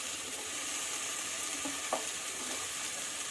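Tomatoes hitting a hot frying pan for mushroom biryani, a steady, even sizzle of oil with a few faint stirring clicks, close and continuous with no talking.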